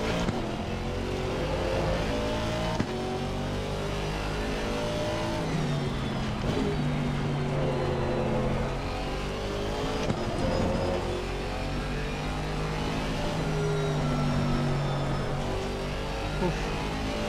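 An Aston Martin Vantage GT4 racing game car laps Zandvoort, its engine rising and falling through gear changes, with repeated revving sweeps that stay loud and continuous throughout.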